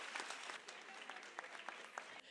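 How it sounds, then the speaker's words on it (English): Audience applause at a school library dedication ceremony honoring a teacher: a steady, dense clapping of many hands, moderately close, sustained for a couple of seconds and then cutting off abruptly near the end. "let's give Ms. Uphaus and our school faculty and our school another hand, a round of applause"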